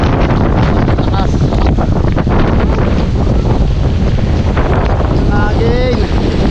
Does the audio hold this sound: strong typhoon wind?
yes